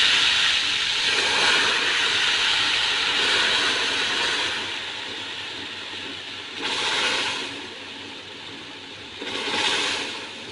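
Water poured a little at a time into hot semolina halwa cooking in ghee makes a loud steamy hiss in the pan, with fresh bursts of sizzling as each small splash goes in.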